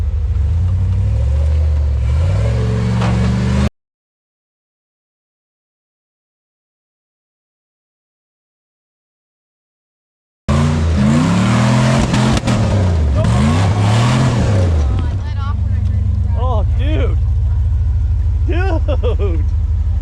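A Jeep ZJ engine revs hard on a wet trail of roots and rocks, rising and falling roars with sharp popping bursts, broken by a gap of silence, with voices talking over the later part.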